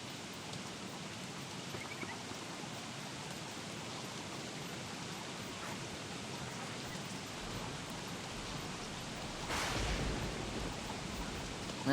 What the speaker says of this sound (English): This could be frog rain weather.